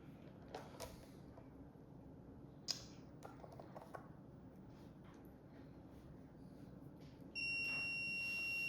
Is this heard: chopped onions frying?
no